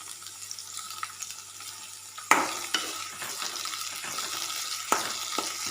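Spring onions stirred into frying rice in a pan: steady sizzle with scraping stirs and a few sharp clatters of the spatula against the pan, close and alone.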